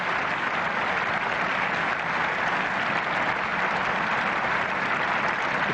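A large cricket crowd at a 1990 England versus India Test match applauds a historic Graham Gooch boundary, with dense, steady clapping that holds loud and unbroken throughout.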